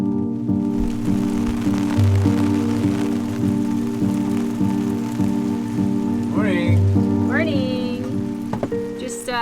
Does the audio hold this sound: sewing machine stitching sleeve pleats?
no